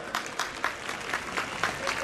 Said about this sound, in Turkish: ve alkışlayalım